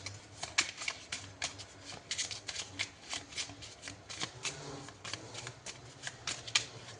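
Tarot cards shuffled by hand at close range, a dense run of papery riffles and slaps with uneven rhythm, steady throughout and without speech.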